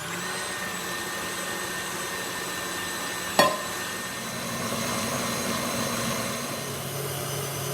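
Electric mixer beating génoise sponge cake batter, a steady continuous motor whir held throughout with one brief sharp clack partway through.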